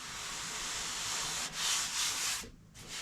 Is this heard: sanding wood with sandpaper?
yes